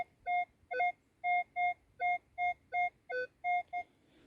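A metal detector sweeping a field near two old castles in Czechia gives a clear electronic signal tone, about ten evenly spaced beeps repeating in a steady rhythm, close and alone without talk.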